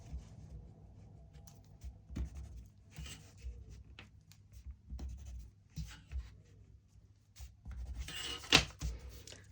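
A pen or pencil scratches lines across a large sheet of paper while a skirt pattern is drafted, short strokes in uneven bursts with small rustles between them, close and fairly quiet.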